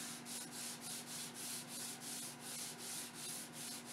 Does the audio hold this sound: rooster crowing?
no